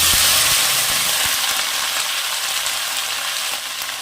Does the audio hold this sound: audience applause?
no